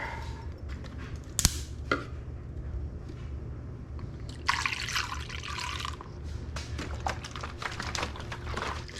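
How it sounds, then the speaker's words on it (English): Coolant pours and trickles for a few seconds into a Honda CBR1000RR motorcycle engine amid small clinks and taps of metal, close by in a quiet space. "I'm going to pour enough in there to get down to the water pump"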